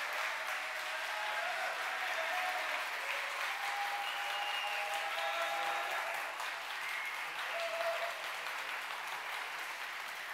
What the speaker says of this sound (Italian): facciamo il countdown per l'applauso